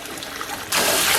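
A shower stream switching on over fizzing coconut milk bath bombs, a soft trickle abruptly giving way to a loud, steady hiss of spraying water.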